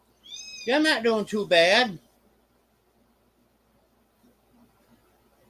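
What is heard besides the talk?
kitten meowing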